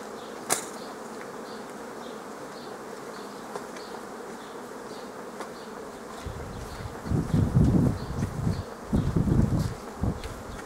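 Honeybees buzz around a beehive in an apiary, a steady close drone with single bees whining past. A sharp tap comes early, and heavy rumbling handling or wind noise swells near the end.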